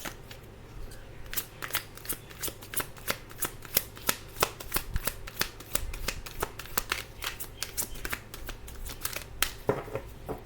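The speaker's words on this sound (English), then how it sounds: "I'm going to go ahead and throw in 2 oracle cards" A deck of oracle cards being shuffled by hand at close range, a long run of quick crisp riffling flicks and soft slaps that carries on steadily with no talking over it.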